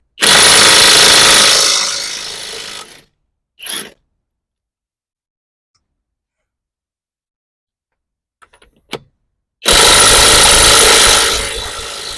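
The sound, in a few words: Kamolee 520 Nm impact wrench removing car lug nuts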